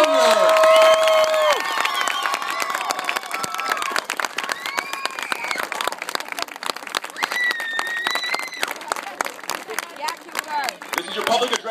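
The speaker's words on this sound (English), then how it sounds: "Fans, let's hear your applause for the 2013 Jayhawk Senior!" Fans at a University of Kansas softball Senior Day cheer and clap for the 2013 Jayhawk seniors, a loud steady crowd roar with whistles and shouts running throughout, starting right after an announcer's voice.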